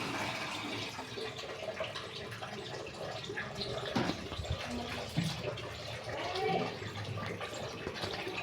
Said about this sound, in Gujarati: નળ શરૂ કર્યો જ